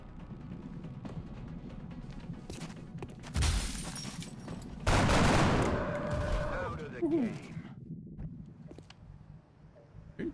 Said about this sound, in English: Shoot him through the window.